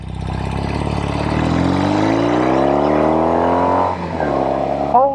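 A Norton Commando 850 motorcycle engine, stock with 60 horsepower, accelerates hard in one long rising pull, revs climbing steadily before a brief shift dip and a final surge, loud and close throughout.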